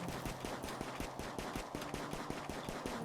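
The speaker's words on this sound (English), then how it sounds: "Hunting with a pistol." Pistol shots ring out while hunting in the colony video game RimWorld, a quick run of regular, evenly spaced cracks at moderate level, heard alone without talk.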